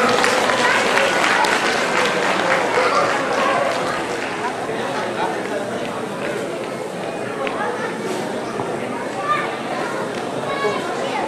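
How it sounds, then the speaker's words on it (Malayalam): An audience claps for a prize winner at the Agape 2014 event, with dense, continuous applause throughout that thins slightly partway through, and crowd voices mixed in. "എല്ലാവരും ഒരു കയ്യടി കൊടുത്തേ."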